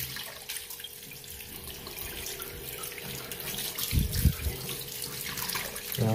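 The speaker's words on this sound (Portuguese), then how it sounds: "a gente vai estar abrindo a torneira" A kitchen tap runs steadily while aquarium plants such as Elodea are rinsed under flowing water, a continuous near splash that swells with heavier splashing and gurgling midway, with no talk.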